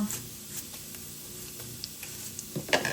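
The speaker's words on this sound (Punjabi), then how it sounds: "ਆਇਲ ਆਪਾਂ ਗਰਮ ਹੋਣਾ ਰੱਖਿਆ ਹੋਇਆ ਇਹਦੇ ਵਿੱਚ ਐਡ ਕਰਾਂਗੇ ਜੀਰਾ ਤੇ ਨਾਲ ਪਾਵਾਂਗੇ ਹਿੰਗ" Cumin seeds and asafoetida dropped into hot oil for a tempering, giving a steady low sizzle with faint stirring clicks and no talk.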